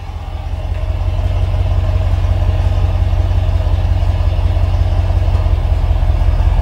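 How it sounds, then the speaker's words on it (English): A 2016 Ram 2500 Lone Star pickup with the 6.4 engine idling at the exhaust, a steady deep rumble with a low pulsing throb, loud and close, no talk. "Now we're going to go around to the exhaust and give you a little bit of sound."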